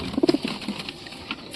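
Pigeons coo in a loft where several birds sit on eggs, a few close, soft low coos at the start followed by quieter rustling.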